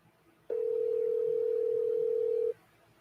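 A single steady electronic tone from a telephone on an outgoing call sounds for about two seconds, loud and close, then cuts off, with quiet room noise before and after.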